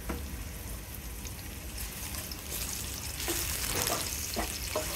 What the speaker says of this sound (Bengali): পেঁয়াজ কুচি, গরম মশলাগুলো দিয়ে দিলাম